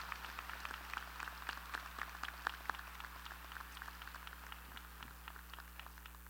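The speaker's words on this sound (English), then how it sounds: "How about another round of applause for our 2015 seniors class speakers?" Applause from a high school graduation audience in 2015 honoring the senior class speakers, steady dense clapping at a moderate distance with scattered sharper claps, filling the whole stretch without talk.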